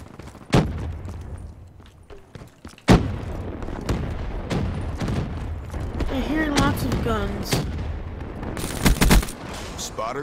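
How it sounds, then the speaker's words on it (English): Gunfire in the video game Call of Duty Black Ops III: sharp, loud shots crack out at intervals, with a heavy burst near the end, mixed in among talking voices and other game noise. "I heard shooting, and there's shooting."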